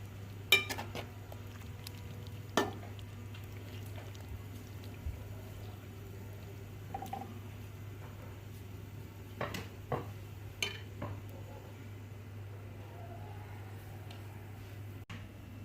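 Chicken kofta biryani is stirred gently in a cooking pot over a layer of rice. Soft, scattered spoon scrapes and clinks break a quiet backdrop with a low steady hum.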